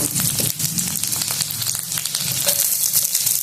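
Beans, carrot and capsicum for a veg burger sizzling in butter in a pan, a steady close crackling fry with light stirring scrapes, no voices.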